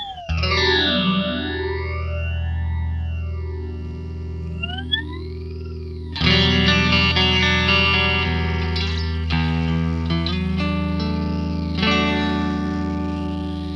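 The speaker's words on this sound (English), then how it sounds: "Again, that feedback gets a bit much on the 10-stage mode." Electric guitar through a PastFx Rotary Phaser set to 10-stage mode with heavy feedback, a sweeping phased chord ringing first, then brighter strummed chords with an intense, slightly detuned-sounding sweep, loud and up front.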